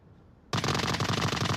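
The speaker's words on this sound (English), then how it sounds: "Some early gunshots coming in." Rapid automatic gunfire from the VR shooter game Onward, bursting in suddenly after a quiet moment and continuing as a loud, dense stream of shots.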